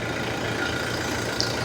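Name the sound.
Toyota Fortuner 2.8 diesel engine idling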